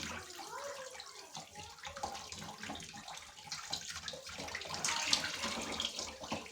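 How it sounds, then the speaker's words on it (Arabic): Rice being rinsed under running tap water in a home kitchen, a steady close splash and trickle that grows louder toward the end, with no voices. "بنغسل الرز كده وبنحط ميته فين؟ على السمك"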